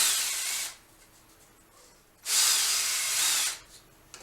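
Two bursts of a power drill spinning a wooden dowel against coarse sandpaper, whirring with a harsh, gritty sanding hiss, separated by a short quiet pause, close to the listener.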